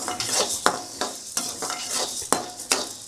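Whole spices dry-roasting in a hot pan for grinding into powder, stirred steadily with a utensil, giving repeated scraping, rattling strokes over a faint crackle, close and moderately loud with no talking.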